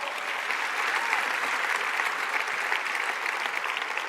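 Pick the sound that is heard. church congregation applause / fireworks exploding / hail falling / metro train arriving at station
church congregation applause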